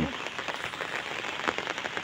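Rain falls over floodwater where children cast nets for fish, making a dense, continuous patter like soft applause. Close and steady, with scattered louder splashes on the surface.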